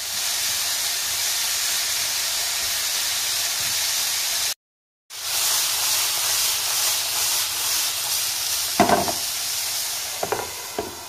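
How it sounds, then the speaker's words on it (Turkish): A zucchini mixture frying in a pan gives a loud, steady sizzling hiss that cuts out for half a second, returns, and is joined by a few stirring scrapes near the end. No one talks. "Tavamızda kızartacağız."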